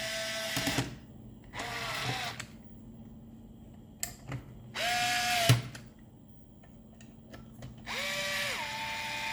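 A Fanttik NEX L1 Pro electric screwdriver whirs in several short bursts as it drives a screw, with rising and falling motor pitch and quiet clicks between runs, close up.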